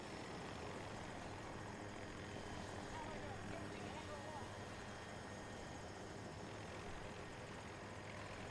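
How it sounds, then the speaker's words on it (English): An attack helicopter in the Battlefield 2042 shooter game gives off a continuous rotor drone and engine roar throughout, fairly distant and steady, with faint talk beneath it. "let's go look, see if we can knock down the attack helicopter"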